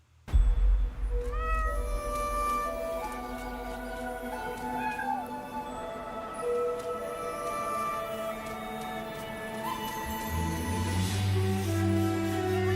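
A cat meows repeatedly over a sweeping orchestral score in the Forbidden City Cat animated trailer, the drawn-out cries sitting close and clear above the music.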